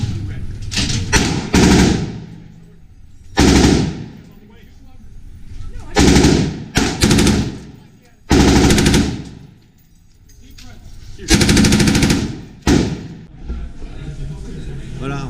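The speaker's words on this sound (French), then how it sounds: "J'ai tiré avec une M249, c'est une mitrailleuse, en fait ce qu'ils appellent la SAW." M249 SAW machine gun fired full auto at a Las Vegas shooting range: several loud, close bursts of rapid gunfire separated by short pauses, with some background noise between them.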